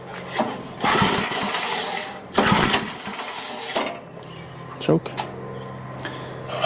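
A rototiller's small engine runs under throttle while a nearby voice talks over it, with bursts of louder mechanical roar and rattling that rise and fall.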